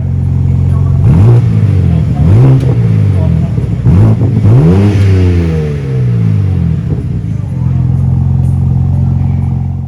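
BMW M440i six-cylinder engine starting and revving hard in several rising bursts, loud and close, with a rich deep tone that settles back to a steady idle.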